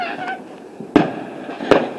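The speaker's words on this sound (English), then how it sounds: "These fireworks really pretty, Ellie." Bonfire night fireworks over London, two sharp loud bangs about a second apart against a quieter background of distant crackle.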